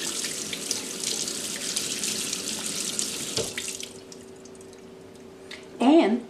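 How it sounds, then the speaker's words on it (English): Cold water runs steadily from a kitchen tap as a potato is rinsed under it for an omelet, a continuous splashing hiss that cuts off partway, leaving quiet before a brief louder clatter at the end. "Rinse the potato in cold water."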